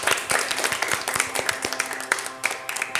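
Crisp handclaps from a small group on a TV show set ring out in an uneven, lively patter of distinct slaps.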